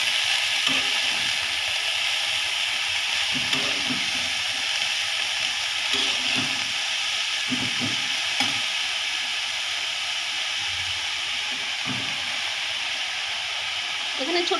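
Leftover curry sizzling in a pan as it is reheated, a steady hiss with occasional scraping stirs, close and moderately loud.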